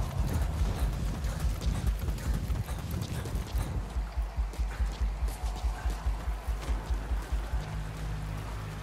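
Horse hooves clip-clop in a steady, even rhythm in the video game Metal Gear Solid 5: The Phantom Pain, the trotting close and distinct over quiet outdoor ambience.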